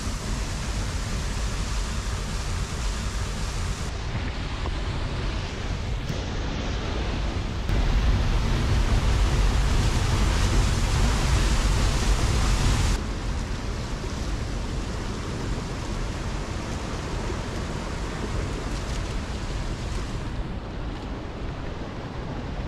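Steady broadband rush of snowmelt water running through a channel toward a traditional water wheel mill in Pakistan, constant and close, swelling louder for a few seconds midway before settling back.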